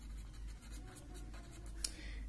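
A pen scratches out a chemistry question on paper or a board with faint, steady scratching strokes under a low background hum.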